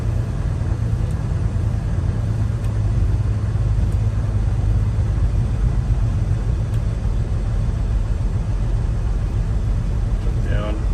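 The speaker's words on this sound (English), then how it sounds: "Idles the truck up." A 2013 Peterbilt 386 truck's diesel engine runs steady and loud with a deep, constant rumble that hardly rises in pitch, a voice talking faintly over it.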